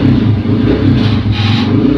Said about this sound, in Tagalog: Pasensya na guys sa ingay dahil maingay talaga yung tricycle ng kabilang bahay